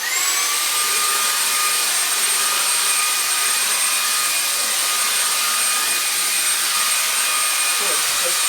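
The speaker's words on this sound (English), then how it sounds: "I'm gonna bring a vacuum cleaner in to get rid of this flaky mess and vacuum a little behind the bed as well" A vacuum cleaner runs steadily behind a bed, its motor a constant loud whine with high tonal lines that holds unbroken throughout.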